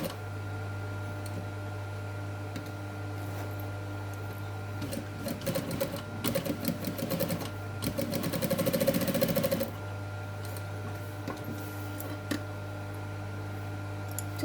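A sewing machine runs in rapid bursts of stitching while sewing piping onto box cushion material, close and fairly steady, with a loud mains hum underneath and no talking.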